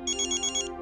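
A phone ringtone trills in a quick repeating pattern of four short electronic bursts, close and clear, with a steady tone underneath and no talking.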